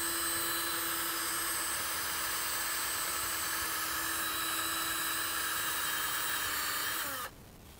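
A power polisher spins against an old Harley motor part in a steady, high whine held close and loud for about seven seconds, then winds down and cuts off abruptly.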